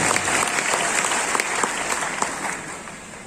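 An audience claps for a presenter, a dense, steady burst of many hands close by that fades slightly toward the end, with no voices over it.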